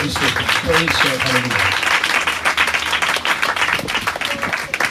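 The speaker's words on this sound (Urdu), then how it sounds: "زور دو تالیاں پاکوں کے لیے" Church congregation applauding during an Urdu-Hindi sermon service, a full, continuous roar of clapping; a voice speaks briefly over the start before the applause carries on alone.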